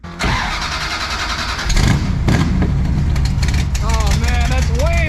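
Classic Mopar V8 with a race carburetor and no choke cranks and catches, settling into a loud, rough, lumpy idle with revving bursts, while people talk over the engine.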